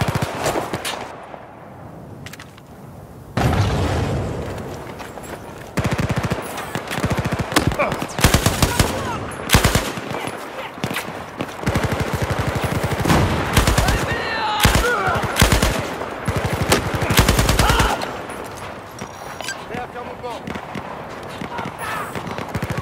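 Battlefield 4 gunfire in the Baku mission: sustained bursts of loud, close machine-gun fire with scattered single shots, broken by brief pauses and mixed with shouted speech.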